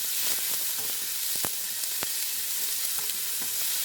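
A red onion frying in a pan, a steady close sizzle with a few sharp crackles and pops scattered through it and no voices.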